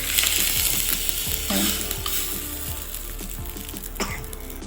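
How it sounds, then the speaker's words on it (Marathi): Cumin and mustard seeds tempering in hot oil give a dense, close crackling sizzle with irregular popping and a few clicks, with no talking over it. "तेल गरम झालेलं आहे अगदी जिरे मोहरीची फोडणी द्यायची"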